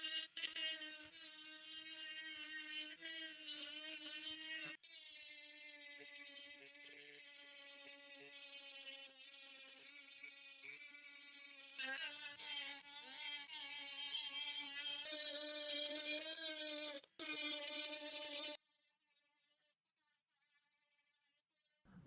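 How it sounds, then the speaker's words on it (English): A rotary tool whirs steadily at high speed on an intarsia woodworking project, a loud continuous tonal whine that shifts pitch several times as it runs, then cuts off, leaving quiet. "So I'll use my rotary tool"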